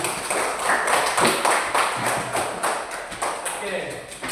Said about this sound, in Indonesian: saya minta kita untuk tepuk tangan untuk diri kita sendiri dulu